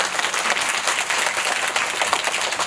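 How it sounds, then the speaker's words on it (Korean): A cinema audience at a special screening event gives a round of applause for the giant panda Fubao, continuous dense clapping filling the room, loud and close. "지금은 우리 푸바오한테 박수 한 번 줄게요"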